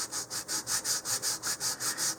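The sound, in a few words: sanding wood with 150 grit sandpaper on sanding tee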